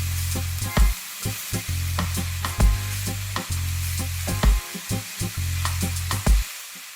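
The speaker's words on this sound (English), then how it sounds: "Add the eggs and stir. Just as you would a normal stir fry." Eggs are stirred into cauliflower rice in a hot pan, with a constant sizzle broken by repeated scraping thumps of the utensil at a steady rhythm, close and with no talk.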